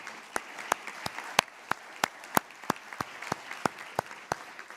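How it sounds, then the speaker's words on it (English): At a symposium marking the 80th anniversary of the end of the war, a small audience claps for the speakers; the scattered claps ring out sharply and irregularly over a soft background. "Let's give a round of applause to all of them."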